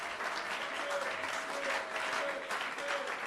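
A church congregation applauds steadily and loudly throughout, a dense wash of clapping with voices mixed in beneath it.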